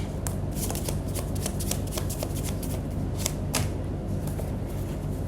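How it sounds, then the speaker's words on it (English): Tarot cards are shuffled by hand in a steady run of quick, crisp riffling flutters, close and continuous for several seconds, with no talking. "And one more shuffle and then we will see our cards"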